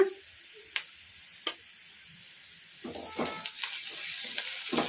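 Onions fry with a little salt in a pan over a medium flame for Bombay chutney. A faint, steady sizzle runs throughout, broken by a few sharp clicks and some louder stirring scrapes near the end.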